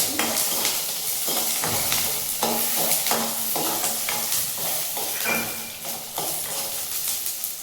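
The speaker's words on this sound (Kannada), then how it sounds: "ಬೆಳ್ಳುಳ್ಳಿ ಸುಲಿಟ್ಕೊಂಡಿರ್ತೀವಲ್ಲ ಅದು ಬೆಳ್ಳುಳ್ಳಿ ಹಾಕ್ಕೊಂಡು ಫ್ರೈ ಮಾಡಬೇಕು" Peeled garlic frying in about two tablespoons of oil for a village-style greens curry, a loud continuous sizzle with steady scraping stirs throughout and no talking.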